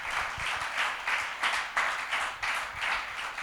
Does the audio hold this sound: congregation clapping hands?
yes